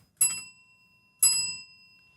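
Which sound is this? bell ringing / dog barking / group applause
bell ringing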